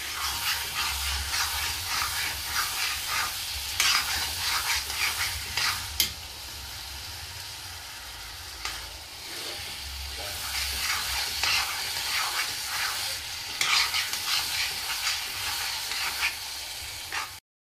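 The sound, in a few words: oil bubbling while frying chicken and potatoes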